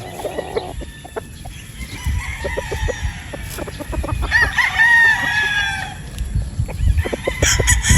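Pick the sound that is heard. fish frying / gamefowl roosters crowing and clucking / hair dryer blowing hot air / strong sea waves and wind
gamefowl roosters crowing and clucking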